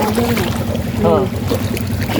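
A motor trawler on the Padma river approaches with a steady, low engine drone and a rumble of water. A person's voice rises briefly over it partway through.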